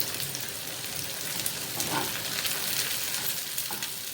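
Green chillies frying for chapli kabab, a steady close sizzle and crackle of hot oil with a few brief stirring bumps, no talking.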